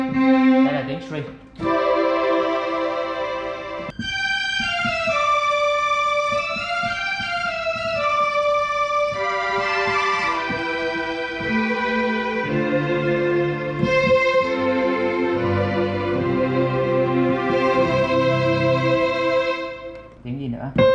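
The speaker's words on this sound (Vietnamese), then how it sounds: "đây là tiếng string," A Yamaha YDP-164 digital piano plays on its string ensemble voice, with smooth sustained tones and a sliding melody over soft chords, loud and continuous, with a brief voice at the start.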